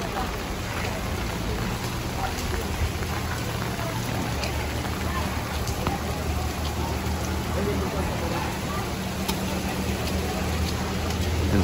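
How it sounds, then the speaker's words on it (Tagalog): Heavy rain pours continuously on a Singapore street near food stalls, a dense steady hiss with scattered drop impacts throughout, under a faint murmur of people nearby. "pansilong na rin kasi ang lakas ng ulan dito"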